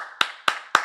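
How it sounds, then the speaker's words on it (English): Three sharp hand claps close up, evenly spaced about a quarter second apart, each a crisp slap with a short tail and nothing else heard between them. "Clap your hands"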